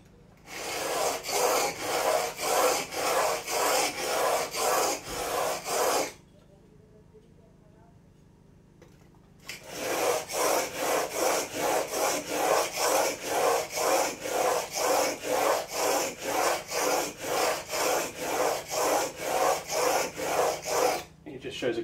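A hand plane blade is honed and sharpened for a No. 4 bench plane, with rhythmic back-and-forth rasping strokes, steady and close, in two long runs separated by a pause, without talk.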